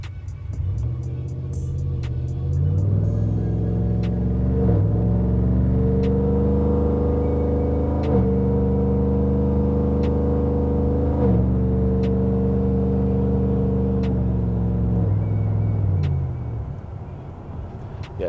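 A supercharged, cammed 5.3-litre 2014 GMC Sierra pickup engine revs up into a sustained loud, rising roar with a whining edge, holds for several seconds, then drops back toward idle.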